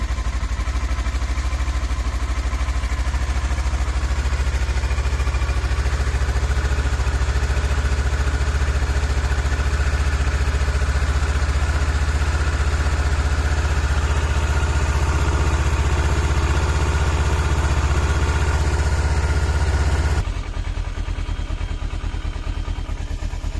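A Kawasaki Versys 650 motorcycle idles steadily while warming up, a loud, close, even engine drone with light mechanical clatter that continues unchanged before dropping in level near the end.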